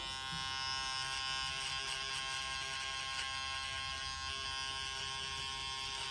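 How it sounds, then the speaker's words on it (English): An electric shaver buzzes steadily and close up for about six seconds, trimming hair on one side of a fade haircut at a barbershop, with no talking. "We're gonna grab a shaver"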